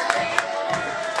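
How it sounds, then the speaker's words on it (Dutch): An audience at the close of an event claps and cheers, with scattered loud claps and whoops over a steady crowd hubbub, fairly close. "Applaus voor je eigen."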